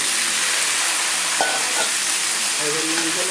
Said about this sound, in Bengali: লাউ আর আলু একসঙ্গে দিয়ে কষিয়ে নেব